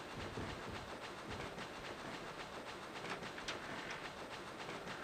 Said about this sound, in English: I like the sound of trains.